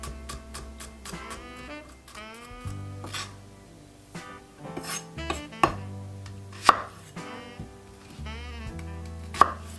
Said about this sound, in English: fresh ginger, fresh garlic chopped fine